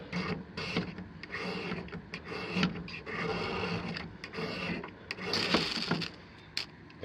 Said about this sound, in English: I want to do a slow scrape and build a little